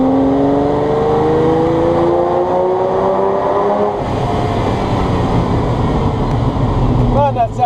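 A Ferrari 308 engine revs hard inside a tunnel, rising whines climbing through gears then settling into a loud, echoing roar, up close with no talk.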